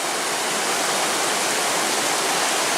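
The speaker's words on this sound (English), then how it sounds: "And this should be Overlook Falls." Overlook Falls, a waterfall in the Porcupine Mountains of Michigan, roars as a steady, dense broadband rush of falling water, continuous and fairly loud with no voices over it.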